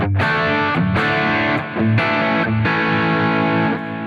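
Crunchy electric guitar through a Wampler overdrive pedal strums a few chords with short rhythmic stabs, loud and close, no voices.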